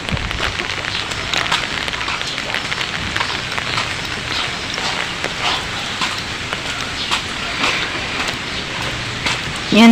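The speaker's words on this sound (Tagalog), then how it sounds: "Pero hindi pa rin po natigil ang pag-ulan" Steady heavy rain pours continuously through a typhoon and monsoon downpour, a dense hiss of drops drumming on surfaces with occasional louder spatters, close and unbroken throughout.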